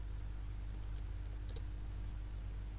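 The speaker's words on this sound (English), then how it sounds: "So we'll start by typing in" Keystrokes on a computer keyboard entering a MATLAB loop, a few light clicks clustered near the middle over a steady low hum, fairly faint and with no talking.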